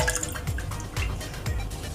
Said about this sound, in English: I have here a chicken broth that I already made a few days ago, so just put this in a pan.